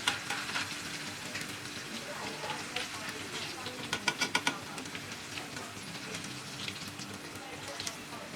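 Jackfruit chips frying in hot oil on a medium flame, a steady crackling sizzle with a few sharp scraping clinks of a spoon scooping them out midway.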